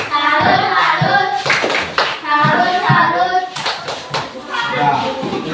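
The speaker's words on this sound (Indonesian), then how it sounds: "Tepuk tangan untuk kelompok 1." A group claps hands in a classroom, with brisk, dense bursts of applause that rise and fall in waves while children's voices chatter over it.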